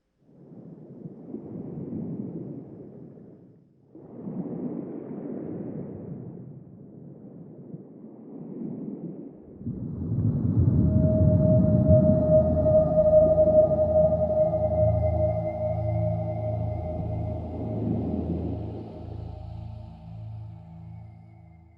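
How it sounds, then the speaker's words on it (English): Soft, rhythmic surges of ocean waves washing onto a shore, each swell rising and fading, followed by a long, haunting whale call that swells in over the surf from an interactive breathing art installation's soundtrack, moderately loud with no talk. "A wave sound crashing into the shore matches participants' individual breathing, and when they synchronize, they hear a haunting whale call sound."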